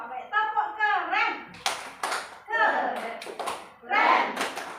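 Children at school chant together while clapping a rhythmic clap chant, with bursts of claps mixed into their singing voices, close and fairly loud.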